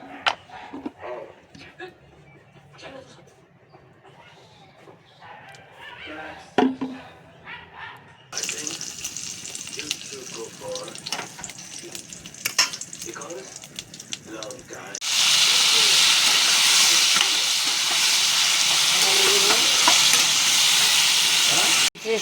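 Mutton and potatoes coated in spices, including Kashmiri chilli powder, hit hot oil in a kadai, building to a loud, steady sizzle in the last third after quieter kitchen clatter and talk.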